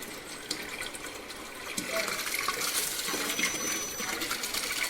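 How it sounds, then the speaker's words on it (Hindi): Water poured by hand into a Whirlpool top-load washing machine, a steady hissing splash that swells after a couple of seconds and keeps running close by without talk. "देखिए मैं इसमें मैनुअली पानी दे रहा हूँ।"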